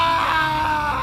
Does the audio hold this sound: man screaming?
yes